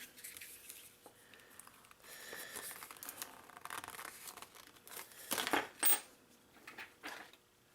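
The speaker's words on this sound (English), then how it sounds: "So let's get into the packaging here." A Leatherman Brewser pry bar and bottle opener is unpacked from its packaging: quiet rustling, crinkling and tearing, with a few louder clatters and rattles near the end, close up and without talk.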